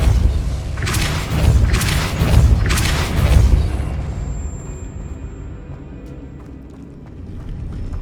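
Depulso spell blasts in the Hogwarts Legacy video game: three heavy booming bursts land about a second apart, then fade into a lower, quieter rumble.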